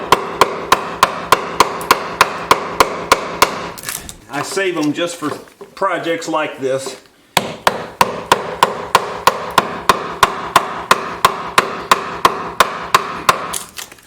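A heavy mallet drives an old junk chisel into a metal shop entry door in steady, evenly spaced loud knocks, broken midway by someone talking before the rhythmic striking resumes.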